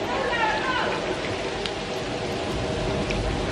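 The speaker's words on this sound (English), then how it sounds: "Oh, it's raining?" Steady rain falling outdoors during a casual day out, a dense continuous patter that fills the whole stretch at moderate loudness, with faint background voices mixed in underneath.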